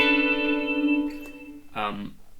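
An electric guitar through a Line 6 HX Stomp/Helix delay effect rings out with sustained notes trailing into repeating echoes, then a brighter strummed chord that decays with delayed repeats.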